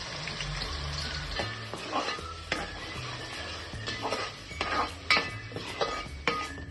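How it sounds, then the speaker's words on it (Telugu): Onion paste fries in a little oil in a pan with a low, steady sizzle, broken by sharp clinks and scrapes of a spoon against the pan. "ఉల్లిపాయ ముద్ద వేగుతుందండి"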